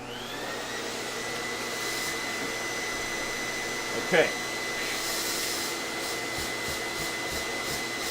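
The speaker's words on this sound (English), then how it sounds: "I'm gonna vacuum this real quick." A Shark vacuum cleaner runs steadily with a constant high whine and airy roar, close and fairly loud, with a brief voice heard over it partway through.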